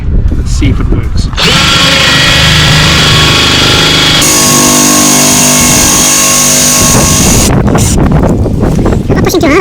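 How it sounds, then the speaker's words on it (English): A power drill spins in reverse at high speed against boat canvas, a loud sustained whine holding steady for several seconds after a brief start, with shifting pitch before it stops and handling noise returns. "the drill in reverse and high speed, and hopefully the idea is to burn the canvas"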